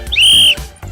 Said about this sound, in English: if you hear 2 consecutive whistles,